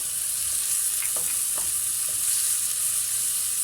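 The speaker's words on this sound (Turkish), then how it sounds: "Ve soğanları pembeleşinceye kadar yağda çeviriyorum" Onions and garlic fry in oil as a steady, bright sizzle that fills the whole clip, with a few faint clicks of stirring in the pan.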